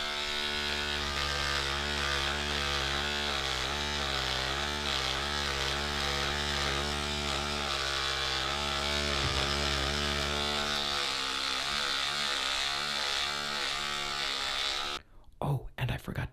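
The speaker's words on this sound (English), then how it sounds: "Now let's go in for a nice shave and clean ourselves up." An electric shaver drones loudly and continuously with a wavering buzz that stays close for about fifteen seconds, then cuts off abruptly into brief scraping noises.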